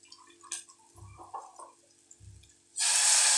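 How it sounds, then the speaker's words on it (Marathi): Heated water is poured into cooked masala for bhaji aamti in a pan, bursting into a sudden loud hiss and sizzle after a few quiet knocks and thuds. "सुरुवातीला थोडंसं पाणी टाकायचं"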